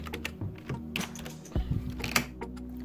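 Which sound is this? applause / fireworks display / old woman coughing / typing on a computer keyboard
typing on a computer keyboard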